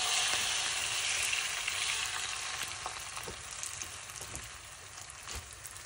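Whisked egg and cheese omelette mixture sizzles and fries steadily in a frying pan, a soft continuous crackle heard alone at close range.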